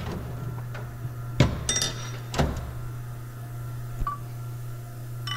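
A few sharp metallic taps from a hammer on a final drive motor gearbox part ring out, spaced irregularly over a steady low hum, with a faint click near the end.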